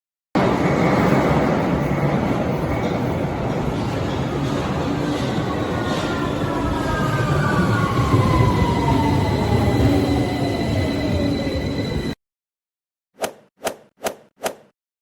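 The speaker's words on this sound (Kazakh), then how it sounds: "Бұл метро." A cartoon metro train rumbles past for about twelve seconds with a steady roar and falling tonal whine, followed by silence and four short sharp knocks.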